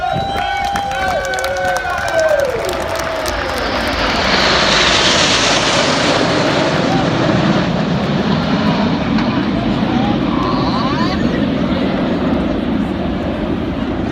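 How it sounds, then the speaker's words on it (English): Red Arrows jets fly over in big battle formation at an air display, trailing red, white and blue smoke. A loud engine roar swells and passes overhead, with an announcer and crowd sounds at the start. "Red One leading the aircraft over in big battle formation"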